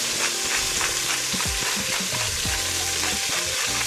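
Steak sears in a ripping hot pan, a loud and continuous hiss and crackle with occasional scrapes and shifts of the meat, close up and with no voices.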